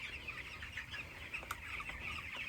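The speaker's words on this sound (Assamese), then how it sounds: "মুৰ্গী আছে আমাৰ" Chickens clucking softly at a small poultry farm of about 1500 birds, a continuous low chatter of many hens with a brief flap or scratch, no talk.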